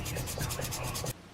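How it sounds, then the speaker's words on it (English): Hand sanding a chef's knife handle by hand: quick rhythmic rasping strokes, about five back-and-forth passes, close and fairly quiet, stopping abruptly. "I'm just going to work on hand sanding this down, making sure everything is nice and smooth"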